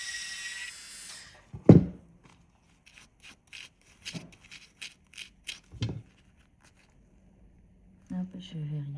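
A gel nail extension is filed and sanded in short scratchy strokes with pauses between them, close and fairly quiet, with a soft voice briefly at the end.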